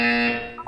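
A single loud, harsh buzzer from the video game Portal 2 sounds briefly and then fades, with a short tonal blip at the tail.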